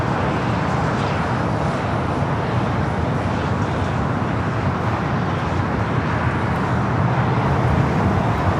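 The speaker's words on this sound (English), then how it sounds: "China Airlines cargo, 777 freighter, making that turn onto" A China Airlines cargo Boeing 777 freighter taxiing and turning at LAX gives off a continuous, even jet-engine rumble, fairly loud and unbroken, with faint wind noise.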